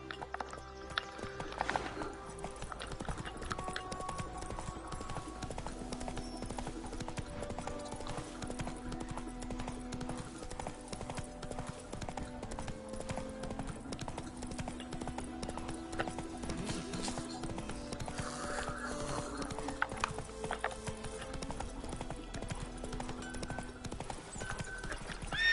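Roach galloping in The Witcher 3: Wild Hunt, rapid, steady hoofbeats near and loud over game music, with an occasional neigh.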